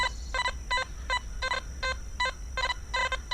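Repeated short electronic chirps from a Minelab Equinox 800 metal detector pulse in an uneven rhythm over a faint steady high whine, close and moderately quiet.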